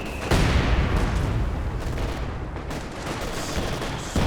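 Dense, continuous battlefield gunfire from Company of Heroes 2, with LMG bursts and sniper shots blending into a loud, steady roar of shots and impacts that cuts off and restarts near the end.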